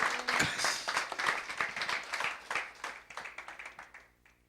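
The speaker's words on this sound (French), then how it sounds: "Acclame pour Jésus" A church congregation at a deliverance service claps and applauds steadily for a few seconds, moderately distant, the clapping thinning and fading toward the end.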